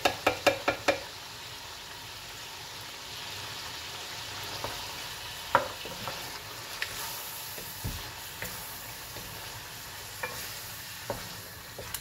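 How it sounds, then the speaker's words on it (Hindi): Tomatoes cooking down in a karahi for chicken Afghani karahi, a soft, low sizzle with a quick run of spatula knocks at the start and scattered scrapes and taps of stirring after, fairly quiet throughout. "अब इसकी भुनाई बस करनी है, और साथ साथ इसको गलाना भी है"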